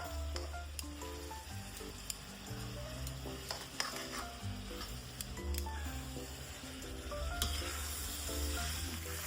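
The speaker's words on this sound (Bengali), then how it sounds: "দুই চামচ মশলা দিয়ে আবারও ভালো করে কিছু সময় ভেজে নেব" Mixed winter vegetables for Gujarati undhiyu sizzle steadily in a pan with two spoons of green masala, a dense continuous frying hiss with occasional stirring knocks, all under steady background music.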